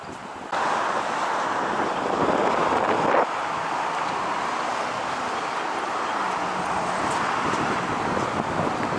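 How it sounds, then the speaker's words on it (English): Strong wind buffets the microphone at Kings Park in Perth with a constant roaring rush, steady and loud throughout and with no voices. "It's quite windy today"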